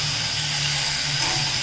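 Two tomatoes and onions sautéing in a pan for mutton fry make a steady, loud, even hiss of frying throughout, with no voices.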